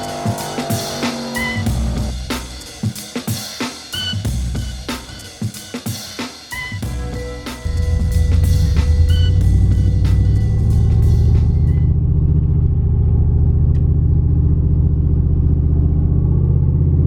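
A car with a supercharged 5.3 engine drives past amid clicks and knocks, then a loud steady low engine rumble takes over and holds to the end, with no voices.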